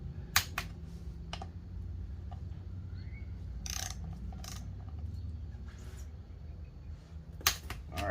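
A torque wrench clicks as front rotor bolts on a 2015 Harley-Davidson Road Glide are tightened in a cross pattern: sharp, close, sparse clicks spaced a second or more apart over a quiet workshop hum.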